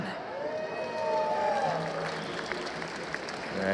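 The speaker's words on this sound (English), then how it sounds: "let me hear you cheer. Give it up for C9." A crowd at a 2016 ESL Overwatch esports match cheers and applauds for Cloud9, a dense sustained wash of clapping and whistles with a few tonal sounds over it, swelling toward the end.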